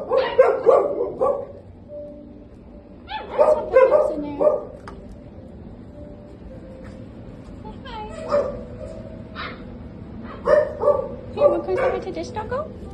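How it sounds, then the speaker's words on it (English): A big dog barks in loud bursts, clustered yips and woofs at the start, middle and end with quieter gaps, while a person talks nearby. "That's a big dog."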